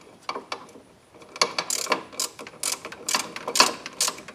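A ratchet wrench tightens ball joint bolts on a 1996 GMC Jimmy, giving close, irregular bursts of clicking and metallic ratcheting in short strokes with brief pauses between them.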